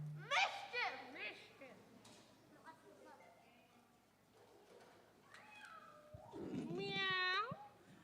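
A person imitates a cat with several drawn-out, wavering meows, the loudest near the end. It happens during a church service, with faint background murmur between the calls.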